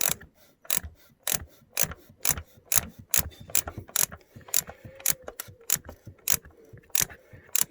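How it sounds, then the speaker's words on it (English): A ratchet clicks in a steady, close series of sharp strokes while tightening the oil filter canister lid on a BMW Mini Cooper during an oil service. The sound is clear and isolated, with no talking. "And now we need the ratchet for that."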